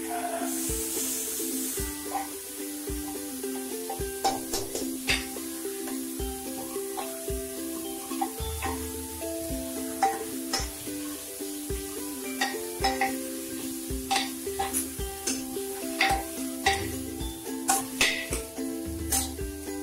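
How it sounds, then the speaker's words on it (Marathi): Mutton curry sautéing in a pan gives a low, steady sizzle, with frequent sharp clinks and scrapes of a spoon stirring against the metal. Sustained tonal hums run underneath throughout. "चांगलं परतून घेऊ।"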